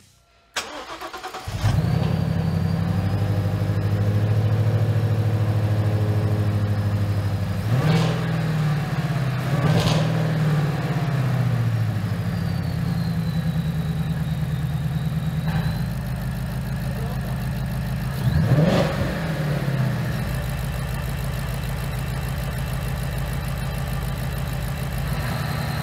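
A Ford engine fitted with a Roush supercharger cranks and fires up, then settles into a steady, loud idle that swells with a couple of blips of the throttle.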